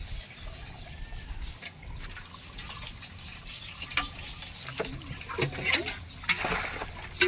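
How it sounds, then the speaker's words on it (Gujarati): Drinking water running from a tap into a container in a village home, a continuous splashing flow with rising filling sounds and occasional drips, heard close by under faint background voices. "જો સાહેબ પાણી ભરે છે"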